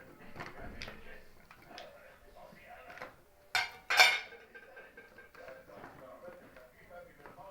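Potatoes and onions tumble onto a metal baking tray for a chicken and potato bake, giving a couple of sharp clattering bursts midway over a quiet kitchen background with some soft handling noise.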